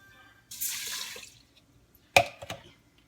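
Water poured into an Instant Pot holding brown basmati rice: a half-second splashing pour, then a few sharp clinks and drips near the end, heard alone and close.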